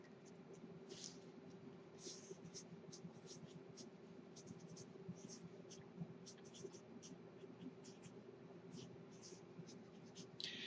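A pen scratches across paper as someone writes by hand, giving faint, close, irregular strokes over a steady low hum, with soft speech in the background.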